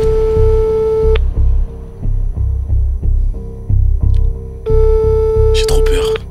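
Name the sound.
phone ringing tone while placing a call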